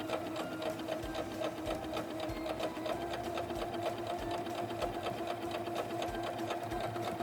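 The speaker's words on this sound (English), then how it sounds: "And now we'll just keep sewing our seam." Singer Legacy C440 sewing machine stitching a seam, a steady fast rhythmic needle chatter with a constant motor hum, close and continuous throughout.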